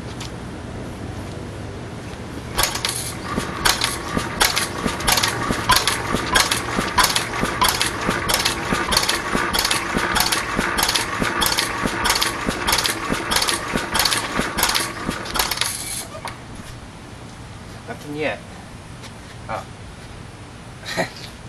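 A propane-fuelled Bessemer engine runs for the first time, firing in a steady fast rhythm of sharp, close chuffs for about thirteen seconds before slowing and stopping, with a few scattered knocks afterward.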